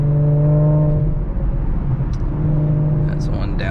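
An Audi SQ5 with AWE downpipes and a Touring catback exhaust drives in stop-and-go traffic, giving a loud, steady deep exhaust drone with a slight dip midway and faint chirps near the end.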